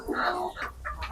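Chickens clucking on a chicken farm, several short overlapping clucks and squawks close by in a steady, busy stream with no talk.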